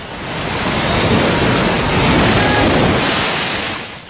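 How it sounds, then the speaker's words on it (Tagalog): Rough sea with strong waves battering a fast craft off Ormoc, Leyte, a loud continuous roaring surge of water and wind noise that swells toward the middle and fades slightly at the end, with no voices. "habang tumatagal, tumitindi ang alon kaya lalong umindayog ang fast craft"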